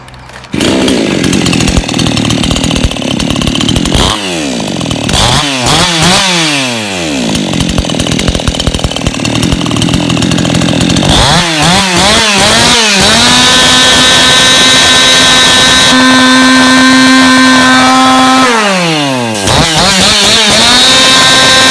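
A TOSAKA 999 chainsaw engine runs loud and close, idling roughly and then revving up repeatedly in sweeping bursts before settling, with a steady high-pitched drone throughout and no talk.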